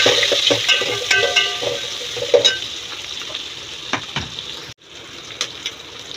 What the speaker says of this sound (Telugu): ఈ మసాలా అంతా కూడా వేగిన తర్వాత ఉల్లిపాయ ముక్కలు వేసుకొని లైట్ బ్రౌన్ కలర్లోకి వచ్చేలాగా వేయించుకోవాలి